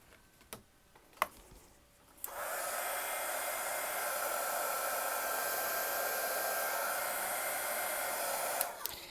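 A few light clicks, then a heat tool blows a steady loud whooshing stream of hot air over Frixion pen ink for about six seconds, stopping with a click.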